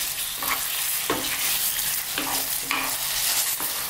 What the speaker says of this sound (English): let's cook this for about 5 minutes. Just 5 minutes, stirring it all the time. We just want to kind of brown it